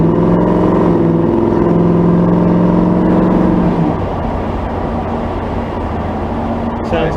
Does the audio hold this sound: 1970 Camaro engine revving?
yes